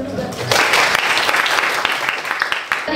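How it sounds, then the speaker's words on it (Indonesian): Applause from a class during a lesson on Hindu historical and cultural heritage, a steady, fairly close patter of many hands clapping for about three seconds, with a voice speaking over the start. "Silakan beri tepuk tangan dulu."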